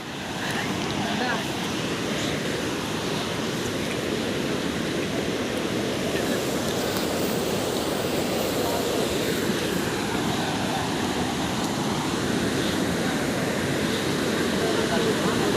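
Rushing river water pouring past a broken bridge, a steady loud roar of broadband turbulence that holds constant throughout, with wind buffeting the microphone and a voice talking faintly underneath.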